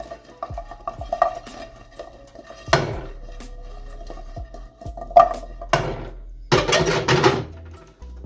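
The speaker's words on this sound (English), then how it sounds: "Got tater tots and bacon going now. Toss these around a little bit." Tater tots and bacon frying in oil in a pan, with scattered clinks and knocks of a utensil followed by bursts of sizzling as the food is tossed around, the last burst the longest and loudest.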